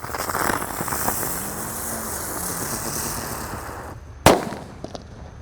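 A red Terate firecracker goes off with a single sharp, loud bang that rings briefly, following several seconds of outdoor background noise and a faint fizzing fuse.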